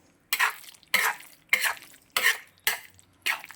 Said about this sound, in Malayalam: ഇനി ഇളക്കി കൊടുക്കണം, നന്നായിട്ട് ഇളക്കി കൊടുക്കണം